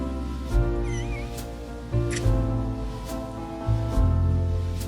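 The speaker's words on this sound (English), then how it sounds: "I'm gonna put my little baby kitty up here" A pet cat meows a few times over a steady background hum, its short calls coming close and clear with low thumps between them.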